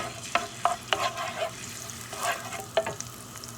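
Frozen spinach stew being tossed and stirred in a pan, soft sizzling under a series of spaced scraping and clattering knocks of a utensil against the pan, fairly quiet and close.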